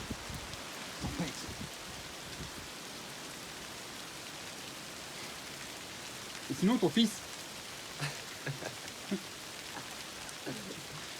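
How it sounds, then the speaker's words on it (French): Steady rain patters throughout, with occasional louder drips and a few quiet voices talking in the background. "c'est quoi cette pluie?"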